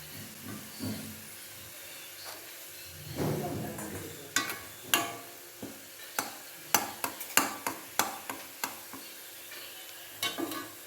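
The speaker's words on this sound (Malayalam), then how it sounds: "നമ്മൾ നല്ല ബ്രൗൺ കളർ ആവുന്നവരെ ഇങ്ങനെ ഇളക്കി കൊടുക്കാം." A spoon stirs chicken biryani masala around a hot pan until it browns, with intermittent scraping clicks over a soft, steady sizzle, close and fairly quiet.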